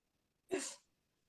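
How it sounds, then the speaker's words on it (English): A single sharp, close sneeze bursts out of near silence, loud and brief with a breathy tail. "what a time to sneeze"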